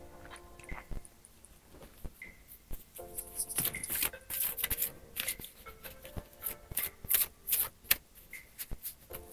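Tarot cards being shuffled by hand, a run of crisp riffling and flicking bursts with soft rubbing between them, close and fairly quiet, no talking.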